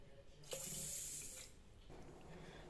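Water pours steadily into instant jalebi mix for about a second, a bright rushing splash, then continues more softly in the background.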